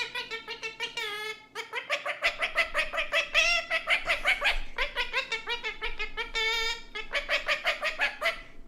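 Pet birds call in loud, rapid bursts of harsh squawks and repeated chattering notes, close and busy with only brief pauses between phrases.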